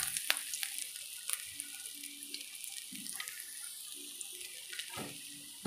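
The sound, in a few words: ginger sautéing in oil for milkfish sauce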